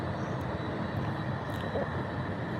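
A Delta 767-300ER airliner taxis at LAX, its jet engines giving a steady, even roar that holds without a break from start to finish.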